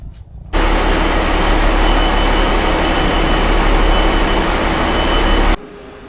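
A loud, steady rumble of a train at a station, broad and continuous, starting abruptly and cutting off near the end, with no voices.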